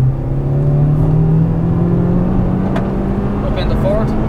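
A 2016 Honda Civic Type R (FK2) at full throttle on the Mondello Park race circuit, a loud steady engine drone rising slowly in pitch, heard from inside the car.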